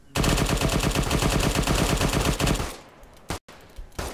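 Automatic weapon fire in the military shooter ArmA 3, a long, loud, tightly spaced machine-gun burst lasting over two seconds, then it stops abruptly, leaving fainter background noise and a couple of brief thumps.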